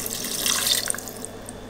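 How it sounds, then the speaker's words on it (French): Water pours steadily from a tap or glass into a cooking pot, about half a litre added to browned carrots and other ingredients, a continuous close splashing rush that softens toward the end. "Ajoutez 50 centilitres d'eau, donc ça fait 2 verres d'eau à peu près."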